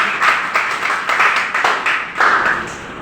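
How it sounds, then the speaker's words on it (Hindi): Applause from an audience at an education workshop, a steady wash of many hands clapping throughout, swelling in waves and staying loud without pause. "एक बार जोरदार तालियां से"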